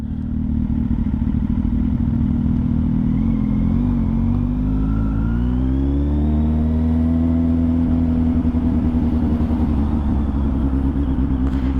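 A Kawasaki Z800 motorcycle with its catalytic converter removed runs close and loud, its engine note rumbling steadily and then rising in pitch as it accelerates, with a raspy, deep exhaust throughout.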